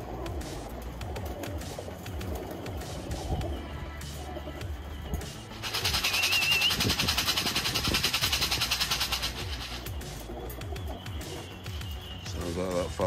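Birmingham Roller pigeons coo softly in a loft amid steady background noise, with a louder broadband wash swelling in the middle and a few brief higher calls.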